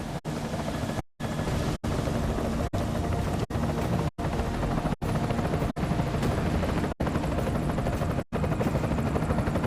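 An enemy helicopter in the video game Deus Ex thunders close and loud with a dense, steady rotor roar, broken by brief regular cutouts, and no speech over it.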